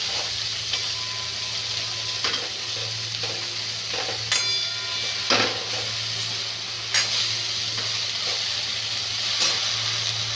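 Dill greens dropped into hot oil in a pan on low heat and stirred, a steady close sizzle and hiss with occasional scraping strokes and clinks of the spoon, without talk.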